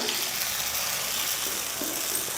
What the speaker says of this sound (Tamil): இப்போ எண்ணெய் காஞ்சிருச்சு, ஊற்றிக்கலாம்.